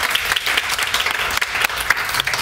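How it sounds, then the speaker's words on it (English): An audience applauds panelists at the close of a panel discussion on inclusion, a steady dense wash of many hands clapping at once, sustained and even throughout. "let's please put a round of applause together for our panelists"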